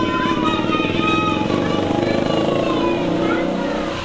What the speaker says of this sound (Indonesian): Itu motor apa ini?